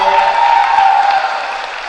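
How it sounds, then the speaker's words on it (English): A school crowd at a powwow applauds its teachers and principal in a brief, broad burst of clapping that tapers slightly toward the end. "Round of applause for your teachers and your principal."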